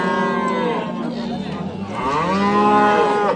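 A Swedish breed cow moos loudly and close by at a Margilan market, two long drawn-out lowing calls one after the other.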